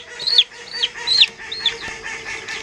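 Newly hatched chicks in a brooder peep in short, high, repeated chirps, several distinct calls spaced across a few seconds, fairly close and clear over a quiet background.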